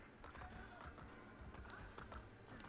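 A horse gallops in the video game Assassin's Creed Brotherhood, its hoofbeats making a faint, quick, rhythmic clip-clop over a quiet background hum.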